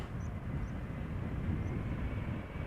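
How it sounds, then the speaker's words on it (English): An Embraer airliner lands at Amsterdam Schiphol Airport, heard as a steady distant engine roar with a low rumbling texture and no speech over it. "let's have a look at the landing of this Embraer"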